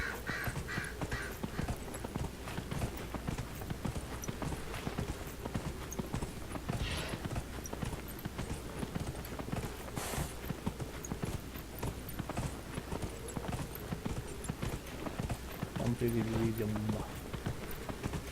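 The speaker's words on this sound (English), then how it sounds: "Riding the horsey." Horse galloping under a rider in the fantasy game Dragon Age Inquisition, a steady fast clip-clop of hooves running throughout with a brief whinny near the end, under occasional talk.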